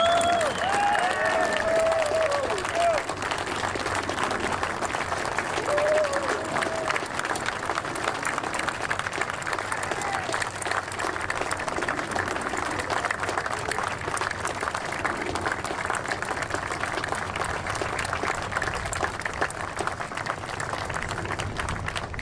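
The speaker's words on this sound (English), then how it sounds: "One more round of applause for all our World War II veterans." An audience applauds World War II veterans at an 80th anniversary VJ Day ceremony, steady sustained clapping from a large crowd heard at moderate distance, with a faint voice briefly at the start.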